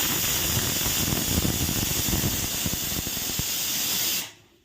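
A steady, loud hiss of steam escaping from a pressure cooker cooking rice runs for about four seconds with faint rattling underneath, then cuts off abruptly into near silence.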